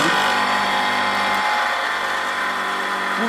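A drill press runs at a steady, loud hum while a blunt drill bit is sharpened, a continuous motor whir with no speech over it.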